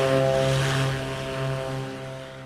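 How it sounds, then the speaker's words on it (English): Beechcraft Baron 58 twin propeller aircraft in a flight simulator, a loud steady engine drone with strong tonal hum and slight pulsing, heard from outside the plane with no voices. "we are in the Baron 58."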